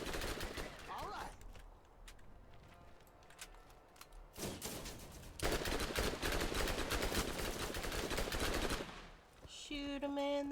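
Rapid gunfire in the Borderlands video game, dense bursts of automatic shots rattling steadily for several seconds amid game noise, with voices talking at times.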